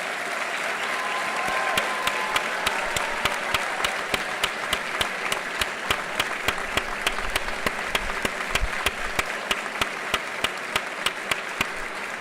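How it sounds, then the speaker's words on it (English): Sustained applause from a large ceremony crowd honoring the currently serving members of the Hartford Fire Department at a graduation, steady and dense for the whole stretch, with sharp regular clap-like spikes standing out above the wash. "join me first in a big round of applause for all of the currently serving members of the Hartford Fire Department"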